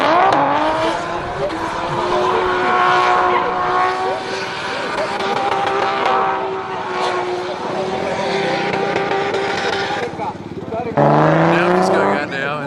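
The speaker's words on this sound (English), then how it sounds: "So there you go, he's learning Australian style burnouts." A car doing an Australian-style burnout at a drift event, its engine revving hard and steady with tire noise throughout, loud and close, shifting to a higher, strained pitch near the end.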